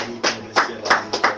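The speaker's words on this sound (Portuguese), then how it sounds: "Aplauda pela glória do nosso Senhor." Close, sharp claps in an uneven rhythm, about five or six in a second and a half, from a church congregation.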